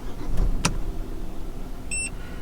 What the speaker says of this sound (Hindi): हम एक बार इसको गाड़ी को स्टार्ट करके बताते हैं